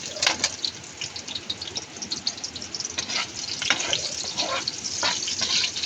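Garlic and onion fry in a pan for pork adobo, crackling in a steady close sizzle broken by scattered stirring clinks.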